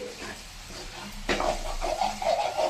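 Garlic sizzling in hot oil in a pan while being stirred, a steady close frying hiss with a scrape of the spoon partway through, no talking.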